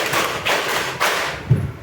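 Students in a class clap a rhythmic counting pattern, with about four separate clap bursts spaced roughly half a second apart, loud and near, with no talk over them.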